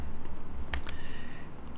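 On a computer keyboard, Ctrl and M are pressed to duplicate an object in SketchUp. Two or three faint, quiet key clicks stand out over soft room hiss, and the sharpest click falls midway.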